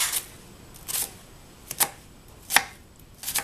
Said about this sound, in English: Right now, I'm going to thinly slice our onion